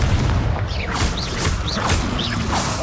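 Explosive Confringo blast spells go off in Hogwarts Legacy, several booming bursts with crackling, whooshing tails arriving in quick succession over a dense background of game effects.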